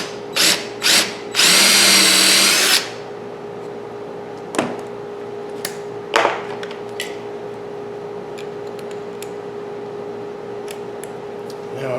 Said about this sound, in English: to get this hole started where I want it, I'm going to drill a pilot hole.